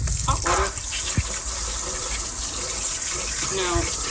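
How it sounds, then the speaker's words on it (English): Hot tap water rinsing a milk filter: a steady, full gushing stream running throughout with splashes and gurgles, fairly close, with faint voice-like fragments mixed in. "I just rinse it with the hot water"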